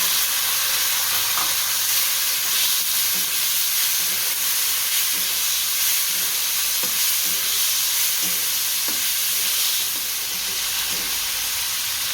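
Chopped onions and tomatoes sizzle steadily in a hot pan, a dense continuous hiss with faint scraping stirs every second or so, close and loud with no voices.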